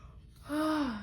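A person yawns once, close and fairly loud: a breathy intake that swells into a brief, descending voiced tone.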